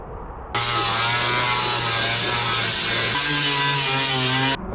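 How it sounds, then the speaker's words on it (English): Angle grinder fitted with a wire wheel runs on the edges of a 2007 Toyota 4Runner body at the dog leg, a loud steady whine held for about four seconds, with a slight drop in pitch partway through, alone without talk. "let's go ahead and get the grinder with the wire wheel and take it along the edges"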